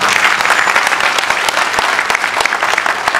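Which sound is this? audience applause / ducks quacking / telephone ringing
audience applause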